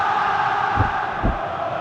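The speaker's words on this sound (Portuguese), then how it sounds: "Canta bonito a torcida do Vasco" Vasco football supporters singing together in a stadium at a Copa do Brasil match against Fluminense, a broad, steady mass of voices with a couple of low thumps.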